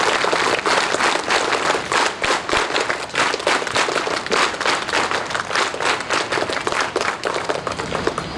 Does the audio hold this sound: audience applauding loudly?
yes